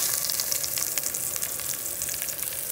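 Onion goes into a very hot pan alongside carrot pieces, thyme and a dried bay leaf, giving a steady close sizzle dotted with small bright pops that carries on without pause.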